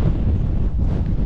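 A powerful stormy wind blasts across the Mt. Timbak summit, pounding the microphone with a loud, unbroken low roar and rough fluttering buffets from start to finish.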